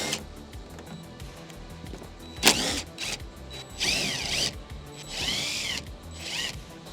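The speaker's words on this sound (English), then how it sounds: "They're 8mm sockets that you pull them out with." An 8mm socket ratchet turning taillight nuts inside the trunk of a 2013-2017 Nissan Altima, giving close, quick clicking ratchet strokes, several short metallic bursts with pauses between them.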